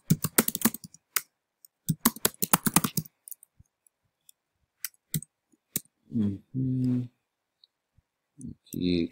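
Rapid clicking bursts of typing on a computer keyboard as a title is entered for a new Prezi presentation, filling the first few seconds, then sparse key taps before a voice talks briefly.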